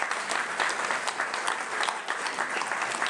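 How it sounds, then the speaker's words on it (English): A crowd of mourners applauds at a 2025 celebration-of-life memorial service, steady dense clapping from a gathered room for a few seconds. "Let's welcome him with an applause in Spanish."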